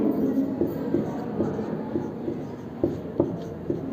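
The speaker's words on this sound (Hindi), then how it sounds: "यहाँ देखिए एक शब्द हम लिख रहे हैं" Chalk or marker writing a word on a classroom board, with a steady run of soft scratchy strokes and a few sharper taps close by, no one speaking.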